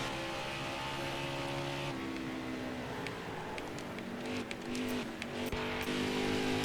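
A stock car engine drones steadily in NASCAR Heat 5 during practice laps, a sustained mid-loud hum with slight pitch shifts and a few faint clicks, with no voices.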